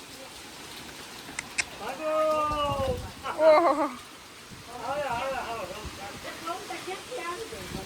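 Storm wind and rain roar steadily outdoors in a gusty, hissing wash while someone talks and exclaims over it.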